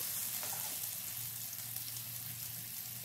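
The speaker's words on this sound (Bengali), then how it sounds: "এইভাবে উল্টে পাল্টে কুমড়োটা হালকা করে ভেজে নিয়েছি" Pumpkin pieces frying lightly in a pan, giving a steady, soft, hissing sizzle with faint crackles throughout, close and quiet, with no one talking.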